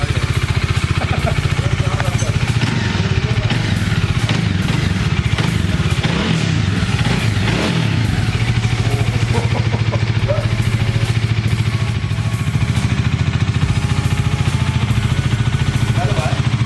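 2019 Bajaj Dominar 400 motorcycle at a warehouse delivery, engine idling with a steady close throb and occasional rises in revs, with voices talking throughout over the engine.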